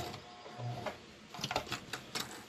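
A sewing machine backstitching a seam on a fabric face mask, quiet close rapid clicking and whirring in short irregular bursts, with no voices.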